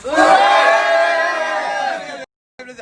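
A large crowd roars and cheers loudly for about two seconds, then cuts off briefly before a few more shouts.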